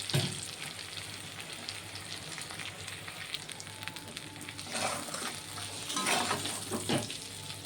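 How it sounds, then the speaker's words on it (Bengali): Hilsa fish frying in a pan of hot oil, a steady close sizzle and crackle running throughout with brief louder spits and bursts near the end, no voices. "মাছটা দিয়েও 1-2 মিনিট আমি ভেজে নেব।"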